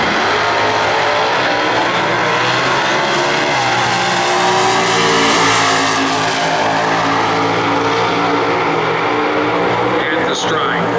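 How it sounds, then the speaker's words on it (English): Drag race cars roar loudly at close range, a flamed Pontiac Firebird and a 4-speed Superstock B car with an AMC 390 engine, their engines howling and rising through a run. A track announcer talks over the continuous engine noise. "The flamed Firebird left side. And A.H. Atkins over here on the right. Superstock B. 4-speed AMC 390"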